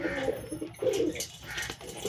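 A pigeon among young birds coos in two soft, throaty bursts, near and moderately loud, with light rustling between them.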